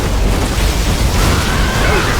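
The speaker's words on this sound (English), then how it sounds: "Particle cannon activated." Particle cannon blast in the game C&C Generals Zero Hour, a continuous loud rumbling boom with a rising high whine sweeping through the middle, dense and sustained across the short burst.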